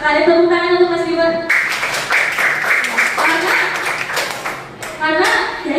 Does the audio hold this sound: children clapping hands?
yes